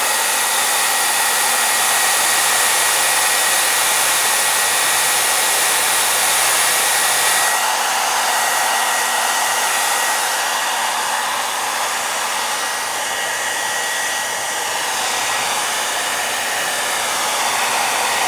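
A hair dryer blows steadily on a man's beard, a loud continuous broadband whoosh that runs throughout, with a slight shift in tone partway through as the airflow or angle changes.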